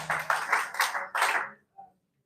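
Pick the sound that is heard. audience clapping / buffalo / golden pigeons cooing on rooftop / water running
audience clapping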